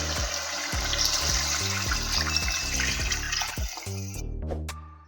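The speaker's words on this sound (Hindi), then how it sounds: "अभी इस स्टेज पे आके तकरीबन 1 लीटर पानी ऐड कर देंगे" Water pours steadily into a pot of cooked-down chicken nihari, a continuous close splashing and gushing that runs for several seconds before tapering off into a few small drips.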